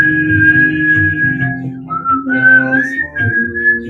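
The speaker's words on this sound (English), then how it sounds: "start whistling. Whistle loudly." A person whistles loudly during a Kundalini yoga practice, one sustained, wavering tone that slides between pitches without any talking.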